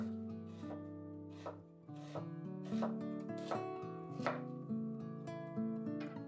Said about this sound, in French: nous allons émincer un demi-oignon